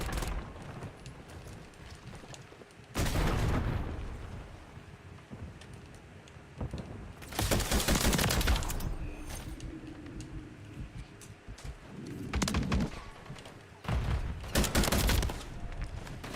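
Video game gunfire comes in loud bursts of rapid shots, several separate volleys broken by quieter stretches of background game noise, with no talking over it.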